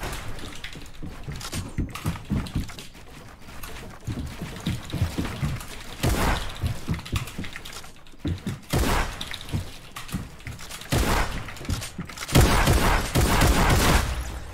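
Gunshots in a Fortnite-style shooter match, several sharp bursts of fire scattered among dense game noise, with louder shot clusters near the middle and end.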